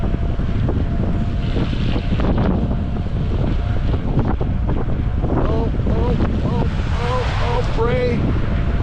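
Strong wind during a snowstorm roars in constant gusts buffeting the microphone, with brief voices and scattered sounds breaking through the heavy rumble.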